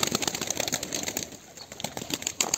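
Pigeons in a loft, young birds among them, give soft coos amid rustling and bursts of wing flapping, fairly close, with no talk over them.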